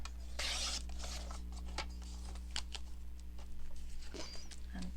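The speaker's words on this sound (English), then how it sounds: "cut that little bit off, and then we'll cut this" Scissors cutting a journal page, a few crisp paper snips and rustles up close, quiet and intermittent with small gaps between cuts.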